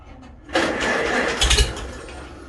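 A Farmall tractor engine cranks and catches about half a second in, then settles into a loud, steady running rumble, close by with no talking.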